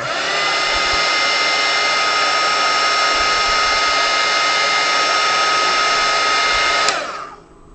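A heat tool melts crayon wax for art, giving a loud, steady blower whir with a high whine that runs unbroken for about seven seconds before cutting off abruptly.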